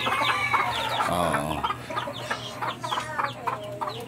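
Several chickens cluck and squawk close by on a farm in Cebu, in overlapping bursts, with short choppy calls continuing steadily throughout.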